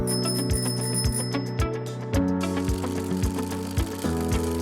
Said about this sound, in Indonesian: sepeda